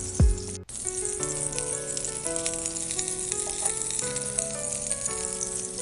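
Almonds, cashews, pistachios and raisins sautéing on a very slow flame for carrot halwa, giving a gentle, continuous sizzle with light stirring, over background music, after a brief knock at the start.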